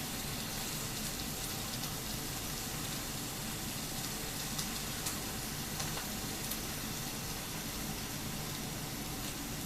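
Steak sizzles steadily in a hot pan, a dense, continuous crackle and hiss that holds an even level from start to finish with no talking over it.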